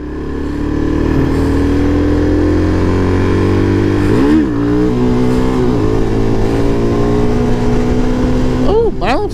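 A Suzuki DR-Z 400 dual-sport motorcycle revs on a mountain ride, its engine note climbing through the gears with quick shifts and brief throttle blips, loud and close.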